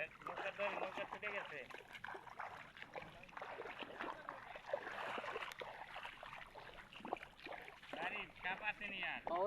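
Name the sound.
boat passing on water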